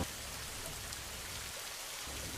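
Rain falling in a cartoon scene, a steady dense patter of raindrops, fairly soft and continuous with no voices.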